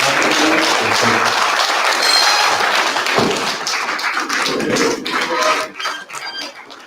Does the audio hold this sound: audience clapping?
yes